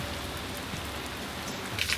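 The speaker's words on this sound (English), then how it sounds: "Oh, it's raining." Steady rain falls as a dense, even hiss of drops pattering on surfaces, constant and close throughout the short stretch, with no talking.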